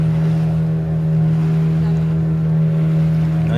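A motorboat engine drones steadily and loudly on a dolphin-watching trip off Goa, its constant low hum running unbroken with wind and water noise around it.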